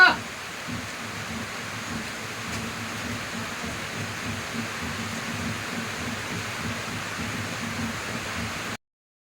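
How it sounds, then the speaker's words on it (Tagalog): Heavy rain falling steadily, a dense even wash of noise that holds at a constant level from start to finish with no talk over it. "Lakas pa ng ulan."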